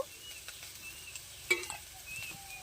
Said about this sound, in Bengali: এঁচোড়টা সমস্ত মশলা দিয়ে ভালোভাবে কষে নিতে হবে